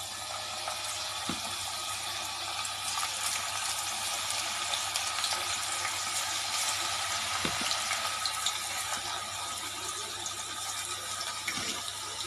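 Cauliflower chilli pieces frying in hot oil in a kadai, a steady broadband hiss and crackle running throughout with a few faint clinks, fairly close and continuous, no voices.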